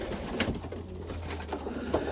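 Racing pigeons coo softly in their loft, a few low murmuring calls rising over a steady background hum, with no talking.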